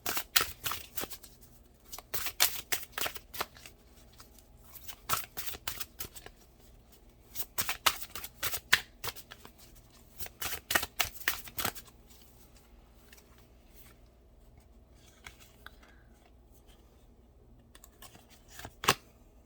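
Tarot cards shuffled and drawn by hand, a rapid riffling and flicking of card stock in quick bursts that pause and resume, close and fairly quiet, with a few softer slides and taps near the end.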